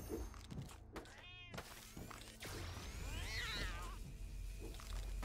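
Laser kitty enemies in the action game Death Must Die let out repeated meows and a drawn-out caterwaul, set among game thuds and whooshes at moderate loudness.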